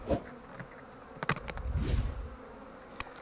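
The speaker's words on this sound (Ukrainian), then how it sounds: "Бачите, як бджоли зразу налітають." A steady, low buzzing of many bees nearby, with occasional sharp knocks and rustling over the droning hum.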